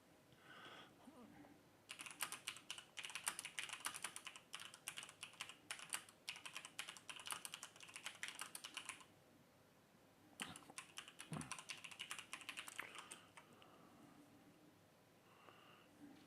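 Rapid clattering keystrokes on a computer keyboard come in two dense bursts separated by a short pause, close and fairly quiet over a soft room hiss.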